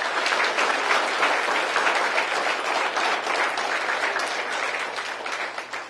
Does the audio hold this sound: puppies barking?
no